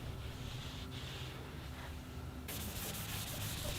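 Light rust being scrubbed off a metal tool surface on a machine that wobbles, a steady close abrasive rubbing that continues unbroken and turns brighter and harsher partway through.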